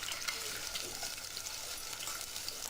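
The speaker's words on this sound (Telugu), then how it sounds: "ఒక 2 నిమిషాల పాటు మంచి వాసన వచ్చే వరకు ఫ్రై చేయండి." Sliced onions and green chillies frying in a pan for an Andhra-style tomato rice, giving a steady close sizzle with faint stirring scrapes, no talking.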